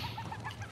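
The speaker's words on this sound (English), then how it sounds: "Come here. I'm not letting you go, chicken." A farm chicken clucks in short, repeated bursts, close and fairly quiet, with no talking.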